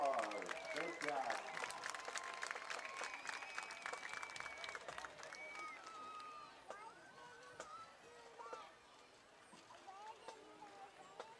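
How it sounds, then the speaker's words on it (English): Stadium crowd at a high school football game between Hendersonville and Wilson Central applauding the Hendersonville Commando High School Band, clapping and cheering spread across the stands, loudest at first and then thinning, with band tones and voices mixed in. "How about a big round of applause?"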